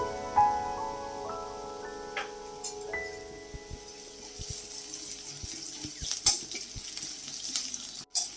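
Chopped onion and black mustard seeds fry in hot oil, giving a continuous hiss dotted with sharp crackles and pops that grow busier partway through, close and moderately loud.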